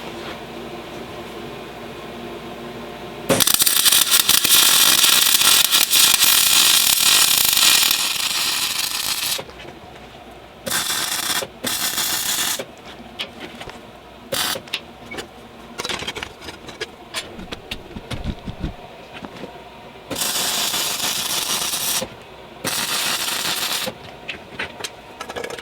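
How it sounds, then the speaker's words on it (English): A flange being welded onto a steel turbo downpipe, with a loud, steady crackling hiss of the weld arc in long bursts broken by pauses, over faint background machinery. "So I'm just welding the flange on the front here."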